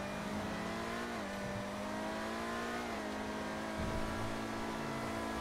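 The Grotti Visione supercar from GTA V revs continuously in a racing game, with a loud engine whine that rises and falls as gears change and a tyre-squeal texture near the end, alone with no talk.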